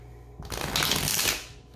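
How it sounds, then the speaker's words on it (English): A deck of tarot cards is riffled in one quick, close shuffle, a short burst of dense flapping and clicking that swells and fades within about a second. "I'm going to do one shuffle"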